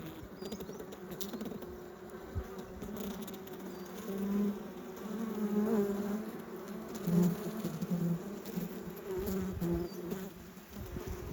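Bees hum continuously and softly on a hive frame in a rescue hive, a close, fluttering drone that swells and fades slightly with the bees' movement.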